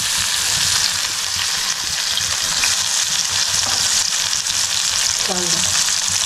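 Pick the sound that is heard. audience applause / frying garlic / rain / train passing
frying garlic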